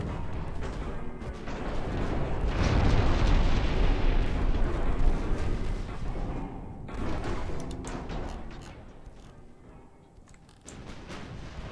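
Naval guns boom and shells explode in a 1940 UK fleet battle from Ultimate Admiral Dreadnoughts, a long rumbling roar that swells, then fades into scattered crackling bursts.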